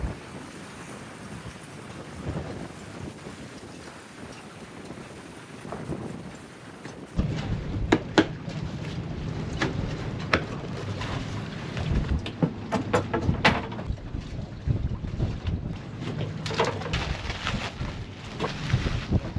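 Strong wind buffets a boat at sea. At first it is a softer rush, then it grows louder and gustier, with microphone rumble and flapping and slapping noises that last throughout.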